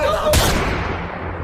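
A single loud AK-47 rifle shot cracks, then decays into a rumbling echo over steady background noise.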